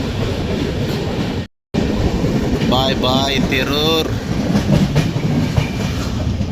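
An Indian passenger train running near Tirur station in Kerala, heard from inside a crowded general compartment: a loud, constant rumble and rattle with clattering wheels, a brief dropout, and a voice speaking over it.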